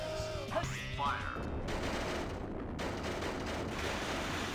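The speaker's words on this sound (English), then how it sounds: "Missile launch in 15 seconds" A missile launches in Sonic Adventure 2 with a sustained roaring, crackling rumble that fills the whole clip, broad and dense like heavy fire, loud and continuous from start to finish.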